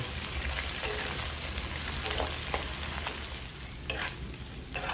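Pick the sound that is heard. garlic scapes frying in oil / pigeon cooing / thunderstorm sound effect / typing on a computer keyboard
garlic scapes frying in oil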